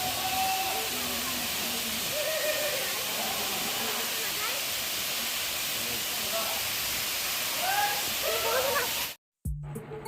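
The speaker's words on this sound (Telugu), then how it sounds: "ఫైనల్లీ మనం రీచ్ అయిపోయాం భీముని పాదం వాటర్ ఫాల్స్." Bhimuni Padam waterfall near Warangal in Telangana, a steady broadband roar of falling water heard continuously, with faint voices in the distance and a brief cut near the end.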